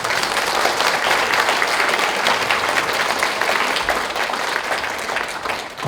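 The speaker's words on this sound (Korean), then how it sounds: "박수 부탁드리겠습니다" Loud, dense applause from a seated audience at a Daejeon apartment reconstruction versus remodeling meeting, many hands clapping continuously for several seconds with no voices on top.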